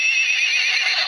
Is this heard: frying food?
no